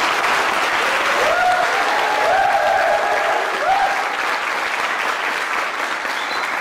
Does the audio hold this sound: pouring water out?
no